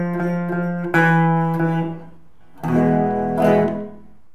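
A slower run of a 12-bar blues rhythm on electric guitar: a sequence of strummed chords with a short pause midway, then two more strong strums that ring out, played alone and up close.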